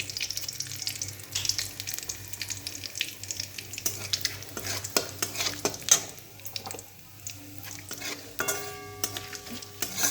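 Whole cumin seeds and bay leaf crackle and sizzle in hot oil for an egg curry tempering, a steady close frying hiss with light stirring clinks and scrapes throughout, no voices.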